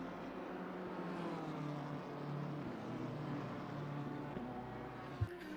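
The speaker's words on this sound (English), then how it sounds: "There's the Lamborghini Huracan's V10." Lamborghini Huracan GT3 race car's V10 engine in the Assetto Corsa Competizione racing game at Spa, a sustained, fairly quiet high-revving drone that rises and falls as it drives, with a brief knock near the end.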